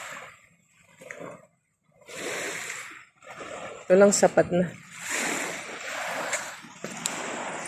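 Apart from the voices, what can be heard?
sea waves splashing on the shore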